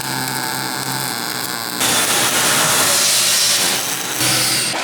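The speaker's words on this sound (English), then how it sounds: "I've just got to flip this, weld it." Steel in-feed conveyor part being welded, a loud harsh crackling hiss that starts partway through and holds steady at close range, with a brief dip before resuming.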